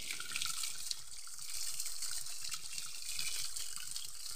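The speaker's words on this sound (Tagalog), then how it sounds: "Tapos nagtaka ako bakit may tubig dyan lumalabas." Water flows steadily out from between large stacked boulders in dry weather, with a continuous close hiss and trickle and no speech.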